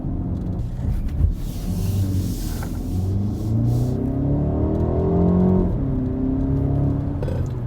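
A 2020 BMW 228i xDrive Gran Coupe engine pulls hard, its tone rising through the revs, dropping at a shift, then climbing again, close and loud with road rumble beneath.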